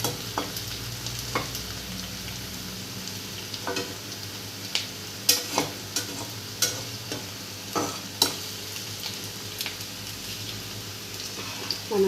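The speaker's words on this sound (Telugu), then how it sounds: "ఉల్లిపాయ వేగుతుందండి" Onions frying in a pan for a tomato dal and broad bean fry, with a steady low sizzle broken by intermittent stirring clicks and scrapes over about twelve seconds, no talking.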